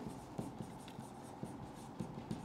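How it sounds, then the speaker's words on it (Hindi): A pen writes notes on a surface during a chemistry lesson on ammonia, producing soft, steady scratching strokes with small periodic taps, faint and close with no talking. "तो यहाँ पे हम लिखेंगे"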